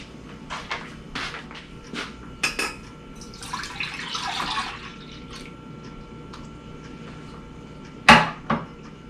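Water is poured into a saucepan over a sink at a camping or overlanding cooking setup: a brief, soft splashing rush in the middle, surrounded by sharp clinks and knocks of cookware, with no talking.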